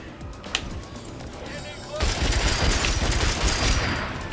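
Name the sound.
Red Card's shotgun firing in video game Agents of Mayhem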